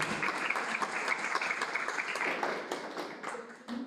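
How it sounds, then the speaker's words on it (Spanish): Applause for a guest at an academic lecture event, a room of people clapping in a brisk, continuous patter that stays fairly even and then thins out toward the end. "Quiero dar un gran aplauso a nuestra invitada por su proyecto."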